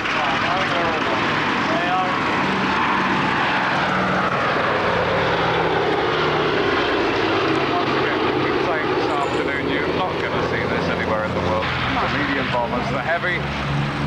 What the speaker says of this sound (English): just taken off the 2 B-25s and the B-17 of Sally B.